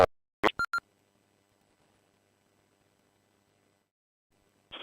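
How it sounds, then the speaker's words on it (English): Electronic timer beeps on an amateur radio net: a burst of radio noise, then three short sharp tones in quick succession, followed by near silence and another brief burst at the end. "I will get another beep at 15 seconds left"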